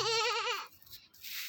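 A human voice imitates a goat, giving one close, loud, quavering bleat that lasts just over half a second before it trails into quiet.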